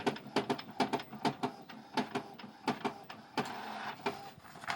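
A printer clatters loudly, its feed mechanism knocking in a fast, steady rhythm that ends in a grinding whir.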